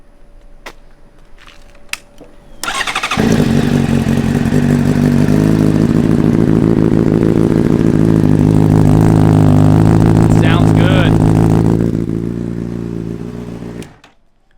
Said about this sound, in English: I'm gonna give y'all a little taste what it sounds like